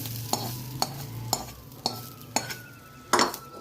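A spoon stirs coriander and green chillies cooking in a pan, making regular scraping strokes about every half second over a soft, steady sizzle. The sound is close and there is no talking.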